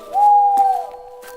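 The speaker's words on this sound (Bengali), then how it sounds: "শিয়ালা রাত পাখির আওয়াজ ভেসে আসছে" A night bird's long, steady hoot rings out once in a spooky cartoon scene beside a cremation ground on a rainy night, then fades into faint quiet with brief soft rustles.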